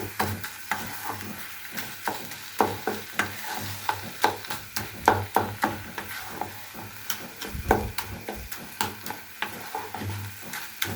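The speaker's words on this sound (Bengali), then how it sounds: "ভেঙে একটু ভাজা ভাজা করে নিব" Mashed papaya is stir-fried in a dry pan with no oil, the spatula scraping and tapping in a quick uneven rhythm over a faint sizzle, close and fairly quiet.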